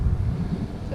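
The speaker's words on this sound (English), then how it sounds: "It's pretty windy, but it is pretty brisk up here." Brisk wind on a mountain top in Rocky Mountain National Park roars into the microphone as a continuous low, buffeting rumble for the entire second.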